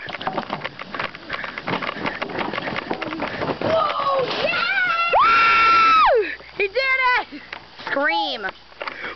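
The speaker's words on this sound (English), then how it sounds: "Scream." Children scream loudly and repeatedly around a bike jump, long sustained shrieks and shorter wavering yells rising over excited kids talking and background chatter.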